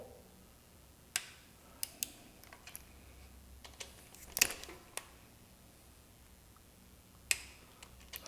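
A torque wrench set near 11 foot-pounds clicks while tightening air cleaner bolts on a Harley Davidson Softail, sparse sharp ticks and snaps scattered across a quiet garage.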